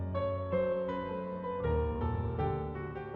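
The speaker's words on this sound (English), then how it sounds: "then you can generate the accompaniment, in this case, some film music" AI-generated film music accompaniment with sustained layered tones and shifting harmonies that swell in a smooth, continuous texture at moderate volume, without voices.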